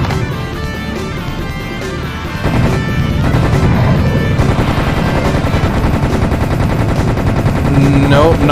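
Gunfire fills a Serious Sam: The First Encounter video game fight, with loud rapid machine-gun bursts pounding continuously and growing heavier midway, dense and unbroken throughout.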